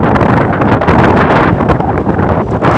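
Strong wind roars steadily outdoors at night in a village, a loud, continuous buffeting rush with gusting swells and no voices.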